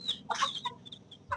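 Chickens, a hen among chicks with a rooster nearby, give short clucks and chirps close to the microphone, a quick scatter of brief calls with no talking over them.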